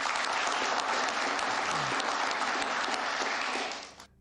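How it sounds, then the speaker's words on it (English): A crowd applauds during a State of the Union response, a dense, loud wash of clapping that holds steady for several seconds before fading out quickly at the end. "they put some people in there clapping"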